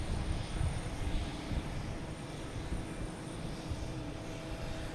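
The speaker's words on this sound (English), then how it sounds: "I got Air France lining up on 4 right, getting ready to take off." An Air France jet takes off on runway 4 right at Boston Logan, heard from a distance as a low, steady rumbling roar that holds evenly throughout with no talking.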